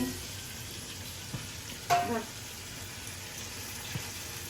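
Potatoes dropped into a hot pan with cumin paste and spices, sizzling steadily with a sharp burst of frying as they land, then a continuous crackle with faint stirring.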